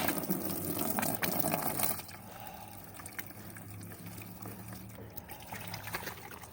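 Water trickles and splashes steadily into a container holding azolla, louder for the first two seconds, then continuing as a softer, even flow.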